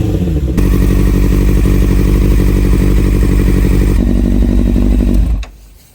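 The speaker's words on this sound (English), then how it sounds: "Bike's still running." Rebuilt Kawasaki Ninja ZX6R sport bike engine idling at operating temperature, a loud steady close-up rumble with rapid firing pulses that cuts off as the engine shuts down near the end, leaving quiet.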